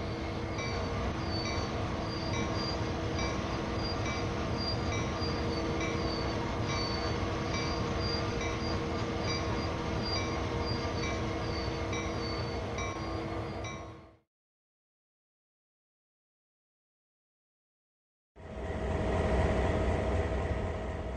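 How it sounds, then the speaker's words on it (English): A GP38-2 diesel-electric locomotive in a train simulator game drones loudly and steadily with a deep 16-cylinder engine hum, cuts to silence for several seconds, then resumes just as loud. "Known as a GP38-2, it packs an efficient 16-cylinder diesel-electric motor"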